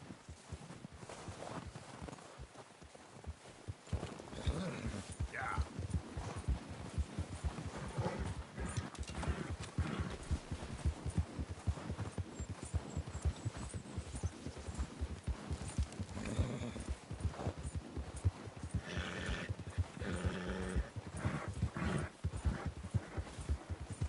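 Horses' hooves clip-clopping in Red Dead Redemption 2, a steady, close rhythm of hoof falls on ground running throughout with a few faint snorts and a short whinny mixed in, no clear speech.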